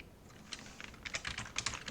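Rapid clicking of keys on a computer keyboard, an irregular typing patter heard close against faint background noise.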